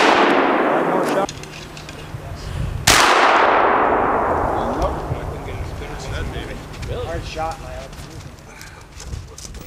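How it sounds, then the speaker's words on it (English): Two loud muzzleloader shots from percussion cap and flintlock guns boom at an outdoor shooting match, each trailing off in a long echo, with people talking in the background. "some of the shooters are using a percussion cap gun, while others are using the traditional flintlock"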